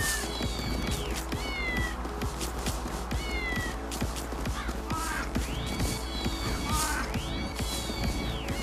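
Repeated cat meows from the Tokyo Jungle video game, with rising and falling calls over a steady, busy game soundtrack and a thumping background rhythm, loud and continuous.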